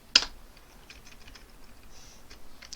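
A computer keyboard being typed on, with one sharp opening keystroke followed by a quick run of soft, close key clicks.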